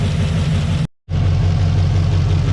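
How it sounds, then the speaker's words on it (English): A freshly built Chevrolet LQ4 6.0 V8 with a Texas Speed Heads cam idles loud and close on its first start, its even low-pitched throb cut by a brief drop-out before resuming steadily. "Kind of surprised it's idling that smooth"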